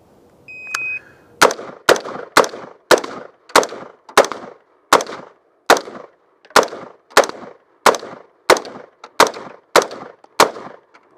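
M4 rifle fired rapidly at five targets set 5 yards downrange, one meter apart: a starting beep, then about eighteen sharp, loud, evenly spaced shots in a steady rhythm, each with a brief ringing tail.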